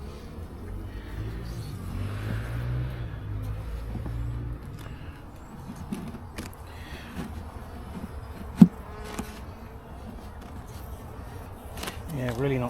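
Bees buzz around an open beehive during an inspection. The dense, wavering drone is fairly close and continues throughout, with occasional handling knocks and clicks.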